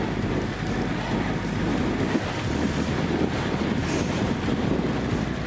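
Strong wind buffets the microphone on a cycle ride at a high, exposed spot, a steady loud roar with gusty low rumble filling the whole stretch and no voices.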